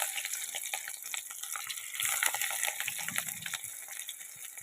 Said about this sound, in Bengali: এবার এই ডিম বাঁধাকপির ধোকাগুলো আমরা তেলে ভেজে নেব।